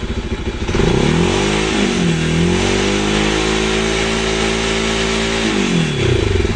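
A car engine revs up from idle, holds a high steady drone for several seconds, then drops back down, loud and close with no talking.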